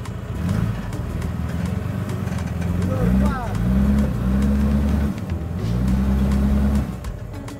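An off-road car's engine revs repeatedly during driver training, rising and falling in loud surges close by, with voices talking over it.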